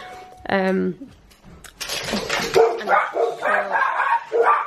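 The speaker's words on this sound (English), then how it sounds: "I got interrupted by the dogs barking because someone posted a card through the door" Several dogs bark loudly indoors in a home after a card is posted through the door, a burst of yaps and woofs followed by a stretch of overlapping excited barking mixed with a person talking.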